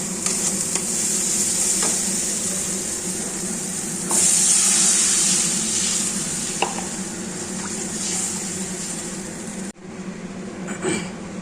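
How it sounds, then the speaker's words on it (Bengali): Masala fries in hot oil for a home-style fish curry, giving a steady loud sizzle with intermittent scraping stirs, a louder burst of hiss partway through, then a brief drop before the sizzling resumes. "ভালো করে মশলাটা কষিয়ে নিলাম দেখো মশলা দিয়ে তেল ছেড়ে দিয়েছে"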